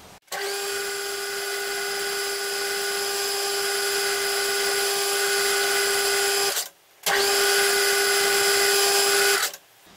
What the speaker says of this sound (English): I'm just going to face off the end of this material now until we're back halfway through that drilled cross hole